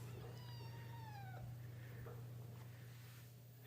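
A mother cat in a room with her kittens gives one long, gliding meow, then a couple of softer, shorter calls over a steady low hum.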